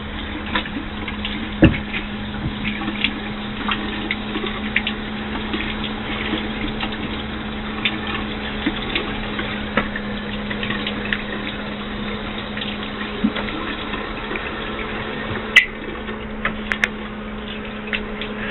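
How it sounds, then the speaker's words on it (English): Water runs and splashes steadily during a face rinse after cleansing with a Clarisonic, with a low pump-like hum underneath and a few louder splashes near the end, no talking. "let me rinse off and then we'll finish the conversation"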